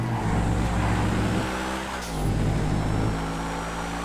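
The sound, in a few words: car (Continental) driving in a video game role-play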